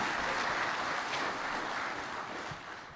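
Steady, dense clapping from a workshop audience at a national economic recovery plan consultation, even and loud throughout without a break.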